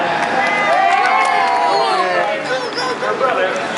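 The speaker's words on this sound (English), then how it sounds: "put your hands together as we welcome our junior sous chefs" A stage crowd cheers and applauds to welcome junior sous chefs at a live sibling cooking show, a loud, steady roar of clapping and shouting voices across the whole stretch.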